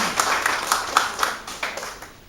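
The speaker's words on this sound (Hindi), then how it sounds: "क्यों ना कलीसिया हम ताली बजा के प्रभु को धन्यवाद" A church congregation claps together in a steady rhythm of sharp, evenly spaced hand claps that sound moderately close and fill the room. No one is speaking.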